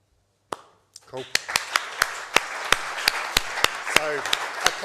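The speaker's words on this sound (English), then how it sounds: "So a clap for the NCM" Clapping breaks out at a talk on the National Cycle Network, sharp, close claps falling in a fairly regular rhythm of about three per second, with a voice speaking over them.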